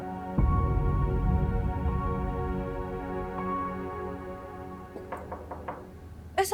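A door knocked on in a Pakistani TV drama: one loud knock, then steady tonal music, followed near the end by a quick series of sharp raps, close and clear.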